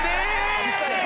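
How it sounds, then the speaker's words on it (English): Studio audience at a celebrity quiz show bursts into loud, sustained applause mixed with cheering and whoops, filling the whole moment without a break. "a big round of applause for Roman"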